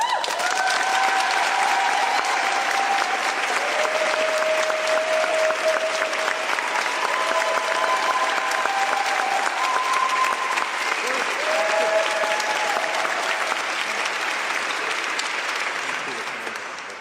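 Sustained applause from an audience welcoming a Moms Demand Action volunteer to the podium at a Minneapolis officials' press event, steady dense clapping for the whole stretch with a few voices calling out over it, tapering at the end.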